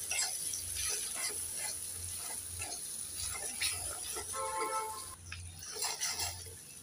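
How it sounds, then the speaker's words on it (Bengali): Salt, turmeric and chilli powder are stirred into hot oil in a pan for Bengali koi fish curry. A steady low sizzle runs throughout, broken by intermittent scraping and clinks from the spoon against the pan. "এবার একটু নেড়ে চেড়ে দিয়ে দেব।"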